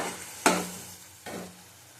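Fried spice paste with Kashmiri chilli powder is stirred in a pan, giving two sharp scraping stirs that each fade into a soft sizzle, with no talk.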